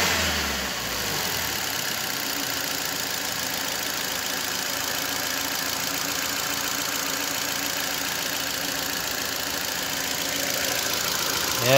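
Ford EcoSport engine running after a general overhaul, a steady close idle hum that holds evenly for about twelve seconds, with a slight swell at the very end and no talking.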